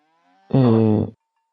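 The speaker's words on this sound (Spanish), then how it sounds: "eso es una vaca" A cow in the video game Season gives a single short, low moo at close range. It stands alone against near silence, with no talk over it.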